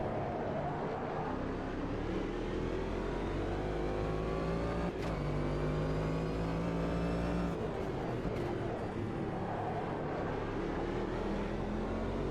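Cadillac DPi prototype race car lapping Daytona in the Automobilista 2 racing game: a loud, steady engine whine that climbs through the revs, with abrupt pitch drops at gear shifts and a constant low rumble throughout.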